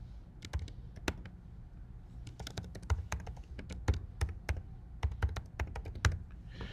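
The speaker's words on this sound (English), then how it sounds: "I'm going to type in the text that I want to use" Fingers typing text on a computer keyboard, a steady run of light clicking keystrokes, close and clear with no talking.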